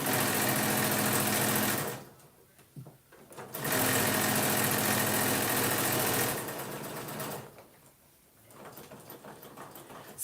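A sewing machine top stitching to close the middle opening of a fabric sandwich wrap, running in loud steady bursts of rapid stitching, pausing twice before starting again.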